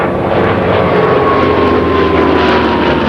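A PV-2 Harpoon propeller aircraft engine drones loudly and steadily, a rough continuous roar as the plane passes close overhead at an air show.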